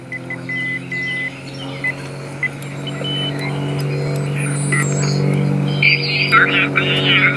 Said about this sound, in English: This is some of the slower Morse code up here.